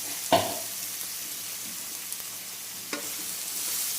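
Salted spice paste ground with curry leaves is added to spinach in a hot pan for Kerala cheera thoran, giving a low steady sizzle with a sharp clatter at the start and another a few seconds later.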